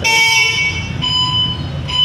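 An e-bike's horn at a dealership: a bright electronic honk sounds twice, a longer toot followed by a short one after a brief gap, loud and close over faint background noise.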